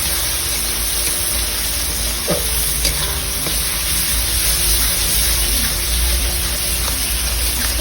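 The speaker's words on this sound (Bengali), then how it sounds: "দেখতে পাচ্ছ পেঁয়াজটা লাল লাল ভাজা হয়ে গেছে।" Chopped onions fry to a reddish brown in a pan for a Bengali curry, giving a steady, close sizzle with a few soft clinks of stirring and no voices.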